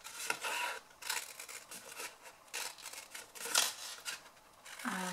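Scissors snipping through paper to make a mini shadow box, a series of short crisp cuts at close range, quiet and irregular, with no talking.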